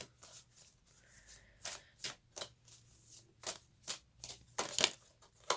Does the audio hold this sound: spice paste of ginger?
no